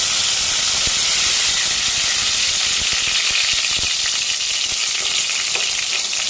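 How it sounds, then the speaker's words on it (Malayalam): Mustard seeds hit hot oil in a pan and give a loud, hissing sizzle dotted with small crackling pops, steady over several seconds with no speech. "ചൂടായ എണ്ണയിലേക്ക് കടുക് ഇട്ട് കൊടുത്തിട്ടുണ്ട് കടുക് പൊട്ടി തുടങ്ങി"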